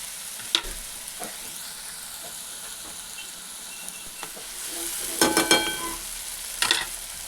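Onion, garlic, green chili, chana dal and tomato fry together in oil, a constant close crackling sizzle with faint scrapes, then a few louder metallic clinks and stirs toward the end.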